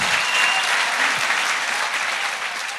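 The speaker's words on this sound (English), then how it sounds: "Let's give our guests a big round of applause." A studio audience gives a round of applause for the guests at the close of a podcast episode, a dense, steady clapping that stays loud throughout and fades slightly at the end.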